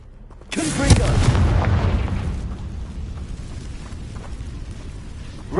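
A Confringo fire spell cast in Hogwarts Legacy bursts in a loud, close explosive boom with a rumbling low tail that fades over a few seconds into quieter background noise.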